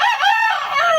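A white breeding rooster crows once, loud and close, a single drawn-out call with a rising then falling pitch and no other sounds around it.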